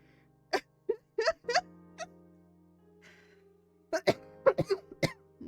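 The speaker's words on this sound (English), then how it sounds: "When I start coughing a little too much" A person with asthma coughs in several short, sharp bursts, pausing briefly, then coughs again in a quick cluster; fairly close and clear.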